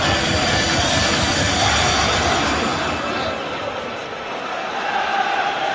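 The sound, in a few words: football crowd at Derby County v Manchester United match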